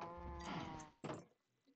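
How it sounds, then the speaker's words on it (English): A cow in the video game Minecraft lets out a close, fairly loud low moo, followed by a second shorter lowing sound, with no talk over it. "Now we have a nice little baby cow."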